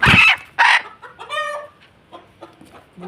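A caught hen clucks loudly and close, with a few sharp squawks followed by softer, fading clucks in quick succession.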